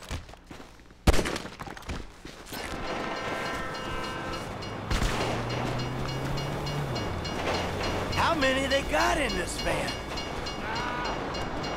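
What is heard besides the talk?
train passing in video game GTA V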